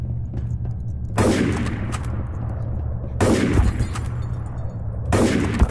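Counter-Strike: Source gunfire with three loud, booming shots spaced a couple of seconds apart, each trailing into a noisy decay over a steady low game hum.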